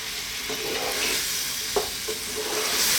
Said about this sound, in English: Let's just saute these around for a little bit.